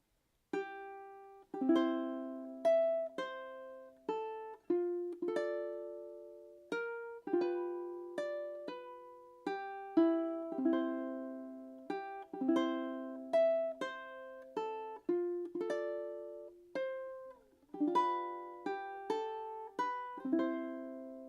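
A ukulele plays a theme tune slowly and clearly, with plucked notes and strummed chords in a steady rhythm, each note ringing and decaying alone without any talk.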